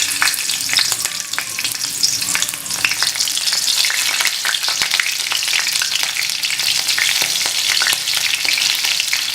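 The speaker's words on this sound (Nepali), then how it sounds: "अब म यसमा खुर्सानी फुराउँछु।" Chili and fenugreek fry in hot oil with a dense, crackling sizzle and bursts of spatter, loud and close, steady throughout with occasional stirring.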